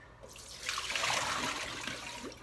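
Spinach being lifted out of a water-filled salad spinner into the strainer basket, giving a close, steady wash of splashing and dripping water for a couple of seconds.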